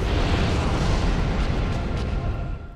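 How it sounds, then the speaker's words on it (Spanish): A rumbling explosion in the video game Dark Souls, set in a lava area, fills the whole stretch with dense, loud low-end roar and crackle that slowly eases off near the end. "ha caído ya, va a hacer la explosión"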